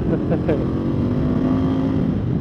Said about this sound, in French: Un moteur donc de 1200 cm3